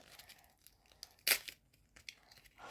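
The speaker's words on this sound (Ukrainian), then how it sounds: "Порвався цей пакетик" A thin plastic packet rips open in one quick, sharp tear, surrounded by quiet crinkling and rustling handling sounds.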